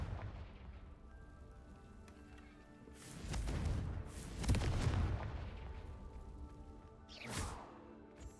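A Confringo blasting spell goes off in a video game, a muffled explosive boom followed by a second burst, faint and low under steady ambient background, with a softer rumble trailing near the end.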